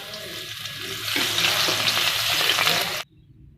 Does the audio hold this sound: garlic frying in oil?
yes